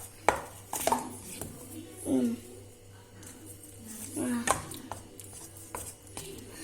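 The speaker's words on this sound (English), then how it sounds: "Now keep on stirring" Cake batter being stirred in a bowl makes intermittent scraping knocks and clinks of a spoon against the sides, with voices talking between strokes.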